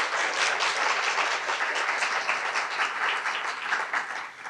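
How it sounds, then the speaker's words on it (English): An audience claps for panelists at a women's wage equity awards briefing, a dense, sustained round of applause from many people, loud and even from start to finish. "a round of applause for the panelists here"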